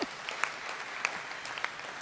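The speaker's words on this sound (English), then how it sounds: "you can clap for that" Brief audience applause at a mayoral event celebrating school test score gains, a steady wash of clapping with a few sharper claps standing out, heard alone.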